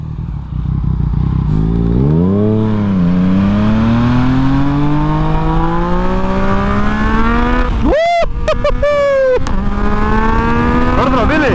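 A Yamaha MT-09 motorcycle engine revs loud and close, its pitch climbing steadily, then sharply blipped and snapped back several times in quick bursts before rising again.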